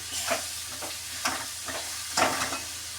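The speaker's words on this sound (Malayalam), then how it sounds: "എന്നിട്ട് നമുക്കതൊന്ന് ഇളക്കി" Spoon scraping and stirring through chicken in a hot pan, in repeated short strokes over a steady background sizzle of frying.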